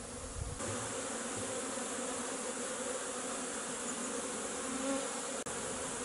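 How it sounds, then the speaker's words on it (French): Honeybees leaving the hive on a winter day for a cleansing flight make a steady, dense buzzing hum that carries through the whole stretch at moderate loudness, with no voices. "les abeilles sont sorties et font leur vol de propreté"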